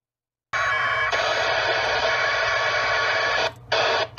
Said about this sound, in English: Remember the old 56K modem days? That's all the digital traffic on the APRS network.